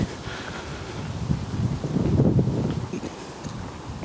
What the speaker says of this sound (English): Still quite a bit windy.